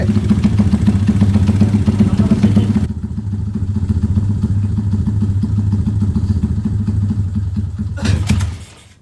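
A Honda Tiger motorcycle engine revs hard and loud with a rough, rattling drone for about three seconds, then settles to a steady throbbing idle before a brief sharp rev near the end.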